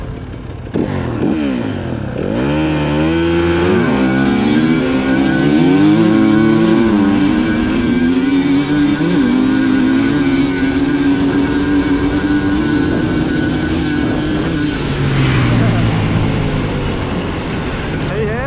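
250cc two-stroke and four-stroke dirt bikes racing off the start, engines revving hard and rising in pitch through the gears, loud and close with some talk.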